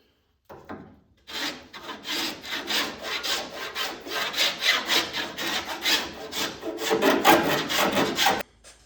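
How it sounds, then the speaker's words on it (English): A Japanese rasp is worked over wood on a boat build, making a close, loud and steady rhythm of rough scraping strokes for several seconds, with no voices. "The other thing I found that works well is this Japanese rasp."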